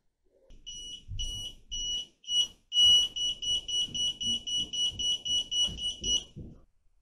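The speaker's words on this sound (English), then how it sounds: "So I used my voltage detector" A handheld voltage detector beeps rapidly in a steady run of short, loud tones while being used near a suspected blown fuse in an unplugged Instant Pot pressure cooker, with faint handling noise underneath.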